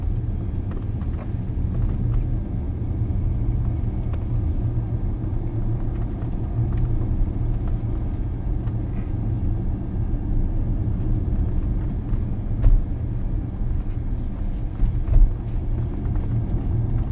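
Hyptec HT electric car descending a steep 8% mountain road with curves, a steady low rumble of tyres and road noise heard from inside the cabin, continuous and even throughout.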